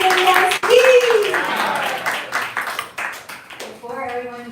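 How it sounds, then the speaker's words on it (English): An audience at a devotional gathering claps for the speakers. Scattered clapping runs under someone speaking over a microphone and swells into fuller applause as a chant begins near the end. "Another big round of applause for Jaya, Nitai, Prabhu, and Bhagavat, Devi,"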